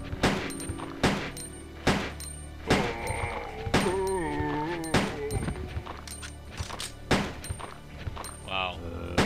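Repeated gunshots fired at zombies in Resident Evil 2, sharp loud bangs spaced every second or so across the whole stretch, with voices talking over them and a brief in-game tone near the end.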